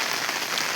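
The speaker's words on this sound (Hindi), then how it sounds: "तो यहाँ से पूरे बरसाती से पैक कर लिया है, क्योंकि अभी बारिश हो रही बहुत तेज़" Heavy rain drums steadily and densely on a tarpaulin cover at a hillside work site, a continuous close hiss with no pauses and no voices.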